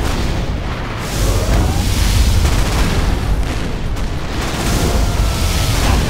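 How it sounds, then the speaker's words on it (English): A sustained, loud roaring blast of a particle cannon firing in the video game Command & Conquer: Generals, rumbling continuously, dense and booming, with crackling bursts layered on top. "Particle cannon activated."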